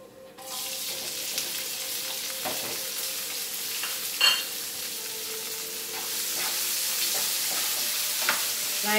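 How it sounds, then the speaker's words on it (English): Bay leaves and onions fry in a pan with a steady, close sizzle that runs the whole time, broken by occasional stirring scrapes and a sharper crackle midway. "Fry this very well."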